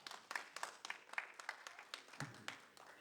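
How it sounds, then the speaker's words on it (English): A sparse round of applause from an event audience, a dozen or so separate claps in a loose rhythm, fairly faint and distant across the room. "I think they deserve a round of applause"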